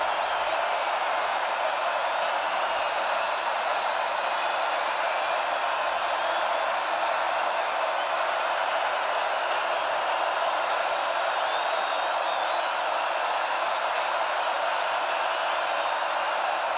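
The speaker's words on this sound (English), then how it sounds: "Crowd roaring at Wilson." Steady, continuous roar of a stadium crowd at a Virginia Tech versus Old Dominion college football game on third down, a broad loud wash of cheering that holds evenly throughout without breaks.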